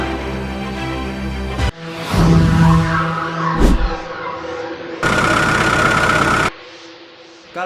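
A huge Caterpillar D11T CD bulldozer's diesel engine runs loud and close in several abruptly cut segments, shifting between a steady idle-like drone and bursts of heavier revving.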